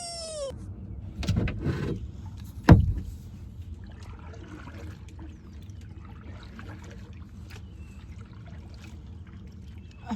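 A kayak paddle splashes on open water in a few close strokes, one sharp splash standing out. Quiet dripping and faint trickling follow.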